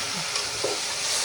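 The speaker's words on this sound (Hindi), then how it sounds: "अब अदरक लहसुन में मैं अपना कीमा भूनूंगी।" Minced meat fries in a pan with ginger and garlic, giving a steady, broadband sizzle. A spoon or spatula scrapes and stirs it now and then. There is no talking.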